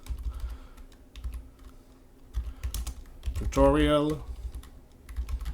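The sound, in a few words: typing a project name on a computer keyboard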